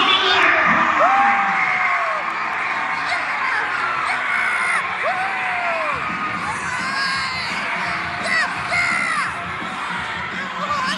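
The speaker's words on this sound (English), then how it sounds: "give yourselves a big round of applause" Crowd at a bike show cheering and whooping steadily, with shouts and a loud, continuous roar throughout.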